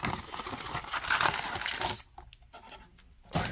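Plastic wrap and cardboard of a Donruss holiday blaster box of trading cards crinkle and tear close up, a dense rustling rip that eases into quieter scattered crackles before one more burst at the end.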